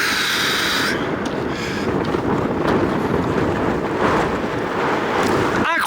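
Strong wind roars constantly against the microphone on a hike at Ala-Kul Lake, Kyrgyzstan, a loud, buffeting rush with no letup across the whole stretch.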